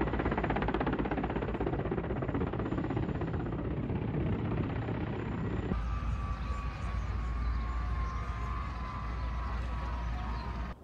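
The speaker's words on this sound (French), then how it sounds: "Voilà mon hélicoptère" Loud, steady helicopter engine and rotor drone heard from inside the cabin during a flight over Saint Petersburg, continuous throughout with a shift in tone partway through and no talking.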